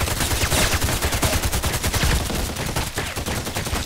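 Rapid gunfire in a tactical shooter game, a dense stream of sharp cracks and automatic bursts, loud and close with no talking.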